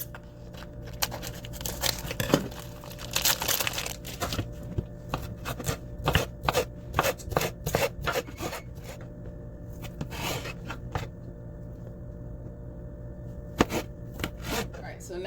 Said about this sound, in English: These are fully cooked, so all I have to do is cut them up